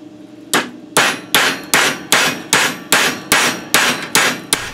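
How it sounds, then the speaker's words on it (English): Cold hammering on metal pieces being shaped for a Roman gladius scabbard, about ten loud, close, evenly spaced ringing strikes with no voices. "I spent even more time hammering on the same two pieces of metal"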